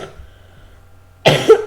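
A single sharp cough from a sick person erupts near the end after a quiet stretch, close and fairly loud.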